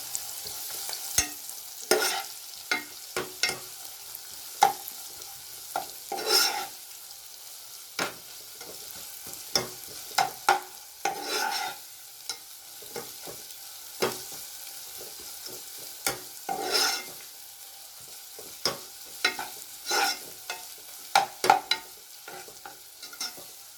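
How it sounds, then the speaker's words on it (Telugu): Ginger-garlic paste and a little turmeric being stirred into frying boti meat for a Telangana boti kura, with a low sizzle under repeated irregular spoon scrapes and clacks against the pan, close up and without speech. "అల్లం ఎల్లిగడ్డ పేస్ట్, పసుపు కొద్దిగా కలపాలి."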